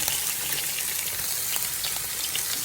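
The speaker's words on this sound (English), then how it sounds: "I just saute the head of the shrimp." Shrimp heads sautéing in a hot pan for pancit broth, a dense continuous sizzle and spatter at even loudness with no talk.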